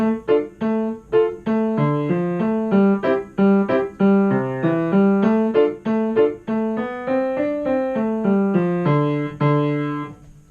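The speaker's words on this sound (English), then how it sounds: "So this is a traditional melody called the sea chanty." A traditional sea chanty melody is played on a plucked or struck instrument, bright and steady, note after note, with no voices.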